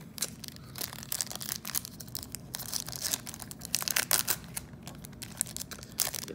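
Tim Hortons Upper Deck 2019-2020 NHL hockey card packs are torn open with repeated crisp foil ripping and crinkling in quick bursts, close up and with no talking.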